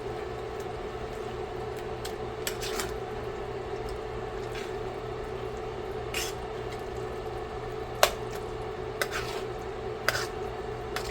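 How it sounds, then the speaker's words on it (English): Creamy alfredo lasagna soup with pasta and sauce is stirred in a pot, giving soft, steady scraping and squishing with occasional clinks of the utensil against the pot over a faint low hum. "And now I'm going to give everything a good stir."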